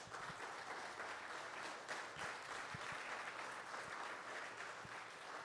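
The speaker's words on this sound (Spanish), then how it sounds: "De un aplauso al Señor." Church congregation applauding together in sustained, even clapping that fills the room at a moderate distance, with no voices over it.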